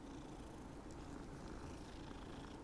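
A cat in Hogwarts Legacy purrs in a low, steady, continuous rumble, close and alone, without pause or variation.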